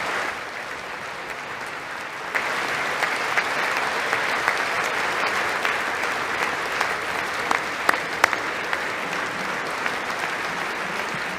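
Steady applause from a studio audience, sustained and even throughout, with a few sharper individual claps standing out near the end.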